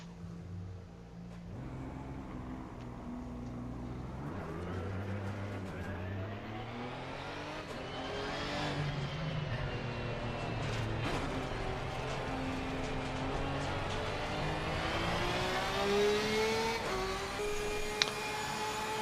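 A race car in Assetto Corsa Competizione runs on a track. The engine holds a steady loud drone, its pitch climbing through the gears and dropping on upshifts, with no talking.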